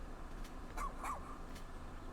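A dog in the video game Pikmin 4 gives two short, yippy barks at moderate volume over a low background hum.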